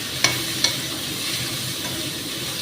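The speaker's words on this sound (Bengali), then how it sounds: "এটাকে এবারে ভালো করে ভাজবো।" Kohlrabi fries in a pan with a steady, close crackling sizzle, broken by a couple of sharp stirring clicks near the start.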